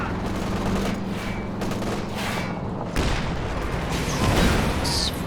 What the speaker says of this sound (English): you can start your Calliope barrage